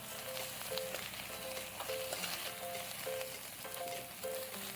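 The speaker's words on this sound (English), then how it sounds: "Fry until the moisture in the rice gets absorbed." Washed, drained rice fries in a pan for a turmeric coconut milk vegetable pulao, giving a steady close sizzle with soft crackles and occasional stirring scrapes, with no talk.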